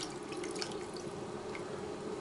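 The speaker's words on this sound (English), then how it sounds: "Drip, drip, drip, drip," Milk dripping steadily into a dish while making cauliflower cheese, a soft liquid patter with scattered drips over a faint background hum, no talking.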